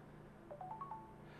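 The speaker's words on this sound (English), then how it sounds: "oh, pardon me, that's my phone" A phone rings briefly with a short rising run of electronic tones that hold steady for under a second, quiet and alone over a faint background hum.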